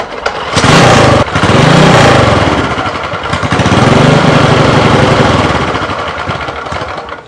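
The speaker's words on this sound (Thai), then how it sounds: "สตาร์ทไฟฟ้ากดสตาร์ทนะครับต้องหันเร่งนิดนึงนะครับ" A race kart engine fired with its electric starter, then revved with a loud, buzzy, fluctuating roar that rises and falls in a few swells and stays close and strong throughout.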